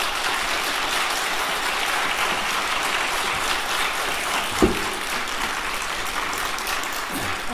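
A church congregation gives steady, sustained applause to welcome the pastor during a Sunday service. The clapping is dense and continuous, with a single brief knock partway through.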